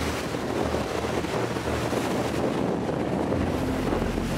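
Strong wind blowing about 20 knots and gusting higher at sea aboard a boat near Roca Partida, with 6 to 8 foot swells: a loud continuous roar of wind buffeting the microphone with no pauses.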